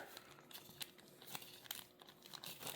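Soft crinkling and rustling of a plastic piping bag of icing being squeezed down into one corner while decorating Oreo cookies, quiet and close, with irregular crackles and no talk.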